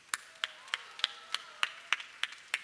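Sparse clapping from a small live-concert audience after a guitarist's song, about ten separate claps spaced at a steady, unhurried pace, fairly faint and without other sound.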